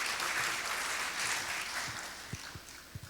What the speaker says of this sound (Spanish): Para él un aplauso,